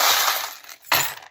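Small metal charms are tossed for a divination draw, giving two quick close bursts of jingling and clattering separated by a short pause.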